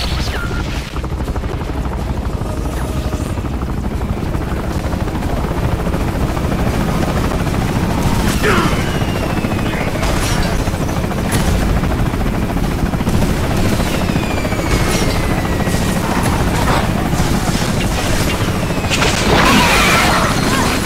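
A helicopter in the video game Bulletstorm thunders with a loud, steady rotor roar throughout, while scattered gunfire bursts and crashing impacts cut across it.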